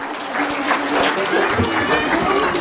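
Steady applause from a crowd at a school annual day event in Ghaziabad, dense clapping sustained throughout at a fairly loud level.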